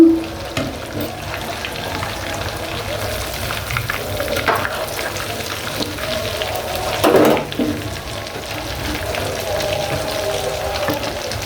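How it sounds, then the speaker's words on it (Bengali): Chicken chaap pieces frying in oil, a steady sizzle with occasional clatters as the pieces are flipped, close and fairly loud. "আমি এই দুইটাও ভেজে ফেলব আমি উল্টিয়ে দিব একটু"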